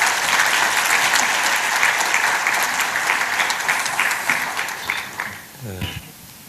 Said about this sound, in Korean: 큰 박수로 총장님 맞이하겠습니다